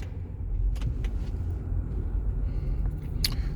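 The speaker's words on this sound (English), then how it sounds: "Let me start the car." A 2019 Infiniti QX60 engine runs with a steady, close low rumble and hum, with a few faint clicks and ticks over it and no talking.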